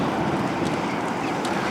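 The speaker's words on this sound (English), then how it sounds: "A lot of wind, a lot of headwind, apparently." Strong headwind buffeting the microphone while riding through the countryside: a steady, loud roar of rushing air that fills the whole moment with no break.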